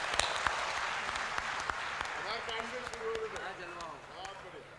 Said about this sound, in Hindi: भाई मुन्ना बैटरी के लिए जोरदार तालियों से स्वागत करें